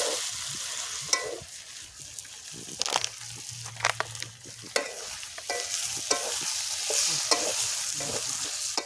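Potatoes are fried and tossed in a pan of nearly dissolved cooking base, giving a continuous loud sizzle broken by repeated scraping and stirring strokes.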